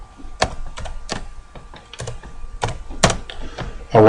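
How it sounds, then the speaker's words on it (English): Keys clack on a computer keyboard as a zip code is entered, a quick uneven run of close, crisp taps with short pauses between bursts, heard alone without any talking. "So let's type in a Houston zip code."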